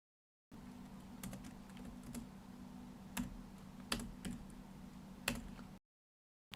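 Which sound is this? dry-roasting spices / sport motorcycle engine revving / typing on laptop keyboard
typing on laptop keyboard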